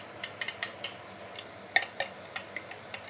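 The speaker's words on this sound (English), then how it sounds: "Slowly saute it. You need to keep on stirring." A utensil scrapes and stirs chili paste sautéing over medium-low heat in a pan, with a soft steady sizzle under light rhythmic clinks and scrapes.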